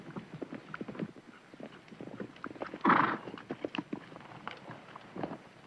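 Horses arriving after hard riding, heard as a rapid clatter of hooves on the ground with a loud neigh near the middle, close and fairly loud.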